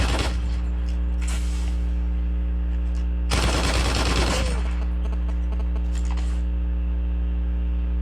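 Bursts of automatic gunfire in a battle royale video game, two short volleys early then a louder sustained burst midway, over a steady background hum.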